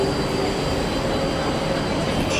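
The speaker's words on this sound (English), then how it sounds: "Our train is late, but finally arrived." A passenger train pulls into a station during a long rail journey from Athens to Kyiv, a steady broadband rumble of rolling wagons with a faint high wheel squeal, continuous and close throughout.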